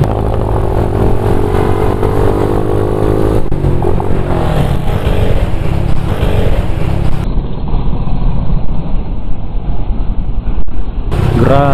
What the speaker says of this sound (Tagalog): Grabe, lakas talaga. Ang laki ng motor na to.